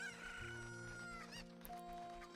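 Cucco chickens in the video game Zelda Ocarina of Time 3D cluck and crow in quick succession, bright game sound effects stacked over a sustained background music tone.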